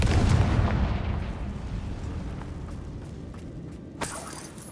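A Confringo fire spell blast from Hogwarts Legacy bursts loud at the start, a booming explosive crack that rolls off into a long decaying rumble, with a sharper, smaller burst near the end.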